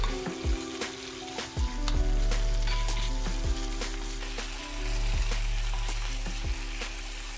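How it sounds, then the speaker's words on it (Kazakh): Marinated meat fries in oil in a pan for fried lagman, with a constant loud sizzle and repeated sharp scrapes and clanks of a utensil stirring close up, no speech. "Табаға май құйып, маринадталған етті 2 минутта жақсылап қуырып аламыз."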